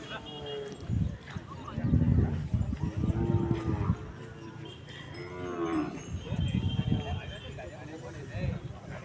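At a bull market, cattle low in several deep, drawn-out moos close by, while people talk over and between the calls.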